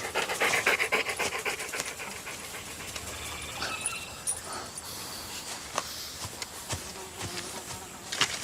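Dogs pant close by in a steady, rapid rhythm of breathy huffs, continuous throughout with a faint buzzing hum in the background.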